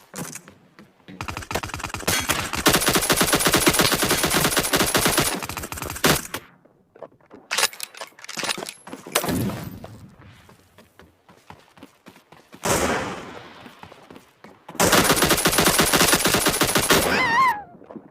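Rapid automatic gunfire from a team deathmatch video game, loud and close, in long sustained bursts with short gaps and a few single shots and whooshes between volleys, no voices.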